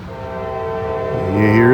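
Freight train sounding its horn as it approaches a crossing north of Atlanta, Georgia: a loud sustained multi-tone horn blast that swells in volume and bends in pitch near the end.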